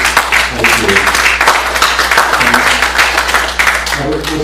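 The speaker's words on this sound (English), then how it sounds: "Could we give them all a round of applause," Workshop audience applauding the speakers at an ecosystem management session, a steady wash of clapping across the whole stretch, fairly loud and close, with a low hum underneath.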